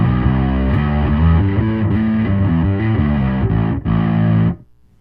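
A heavily distorted guitar played through an Amptweaker Bass JR pedal with the noise gate turned fully up plays a chugging riff, then cuts off abruptly into near silence.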